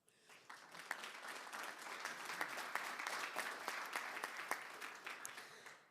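Conference audience applauding at the EUKI Networking Conference 2022, with continuous dense clapping that swells quickly and holds at a steady level for several seconds before fading.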